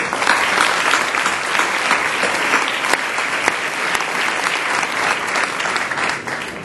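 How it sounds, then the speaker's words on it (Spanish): Sustained loud applause from an audience at a national marketing awards ceremony, dense steady clapping filling the room without a break. "para el cual pido un fuerte aplauso"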